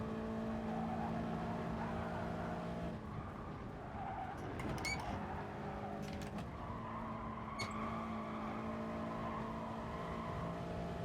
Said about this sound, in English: I'm revving it quite aggressively here.